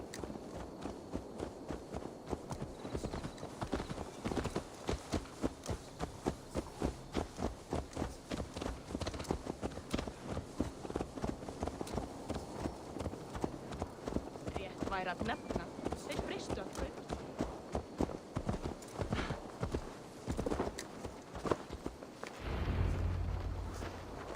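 A horse's hooves clip-clop at a steady, brisk rhythm in the video game Assassin's Creed Valhalla, loud and close, continuing through the stretch with game audio beneath and a thud near the end.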